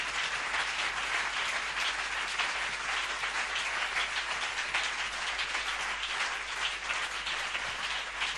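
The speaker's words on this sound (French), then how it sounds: "Nous voulons acclamer, acclamer, acclamer." Church congregation applauding and cheering during a Sunday morning service, a dense, steady wash of clapping that holds at an even level throughout without a break.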